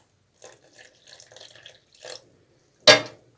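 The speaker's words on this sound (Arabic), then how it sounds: "بعد كده هننزل ببقيه كوبايه اللبن، مش كلها برضو" The rest of a cup of milk is poured into a pot for a no-bake dessert, making a few soft splashing trickles that end in one louder, brief gush, close and with no talk.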